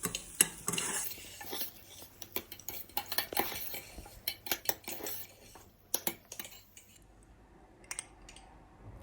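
Chicken mixture being stirred with chili powder in a pan, a spoon scraping and clinking against the metal in irregular bursts over a soft frying hiss, close and without talk.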